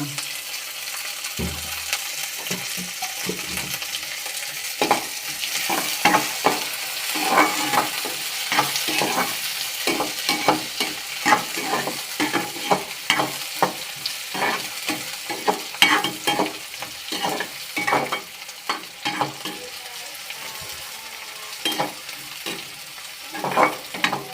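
Idli frying in oil, a close, steady sizzle broken by frequent rhythmic scraping and tapping of a spatula against the pan, with no voices over it.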